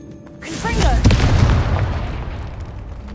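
Fire spell explosion in the Hogwarts Legacy video game: a sudden loud, close boom with a brief crackling burst that rolls off into a long rumbling decay, with a voice briefly heard just before the blast.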